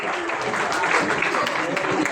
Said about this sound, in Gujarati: એમને પણ તાળીઓથી વધાવીએ